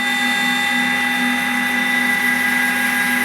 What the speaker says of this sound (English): So that's the big spring.